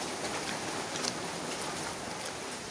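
Steady rain falls on a rainy day at home in rural Bangladesh, a soft continuous hiss with faint scattered drops, even and unbroken with no voices.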